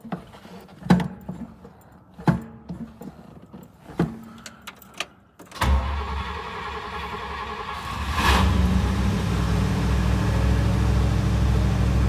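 A 1961 Buick engine fitted with a new Edelbrock carburetor cranks over with several clicks and whirring turns, then catches and settles into a loud, steady idle close by.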